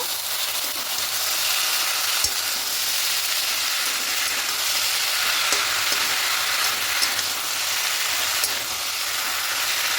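Malabar spinach frying and being stirred with spices for a lentil dal, a steady close broadband sizzle with a few faint utensil scrapes, no voices.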